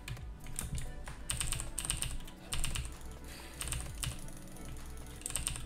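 A Cooler Master CM Stone mechanical keyboard with clicky blue switches is typed on in quick irregular bursts of crisp clacks, close and fairly quiet over a low background hum.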